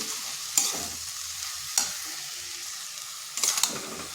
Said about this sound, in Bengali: এইভাবে ভালো করে নেড়ে নিচ্ছি, মানে নুনের সাথে মিশিয়ে নিচ্ছি।